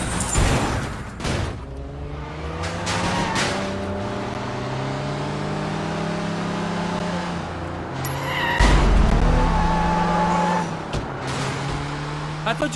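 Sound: car driving away in video game Sleeping Dogs

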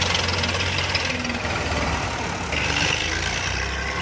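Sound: tractor engine straining while wheeling

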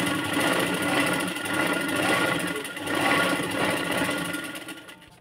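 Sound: sewing machine stitching blouse cross strip

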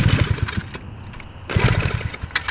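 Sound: vintage mini bike engine with aftermarket 125 engine starting

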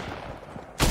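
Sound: gunfire in the video game Fortnite

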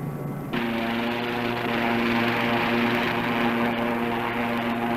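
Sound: SRN5 hovercraft running over desert sand, 1964

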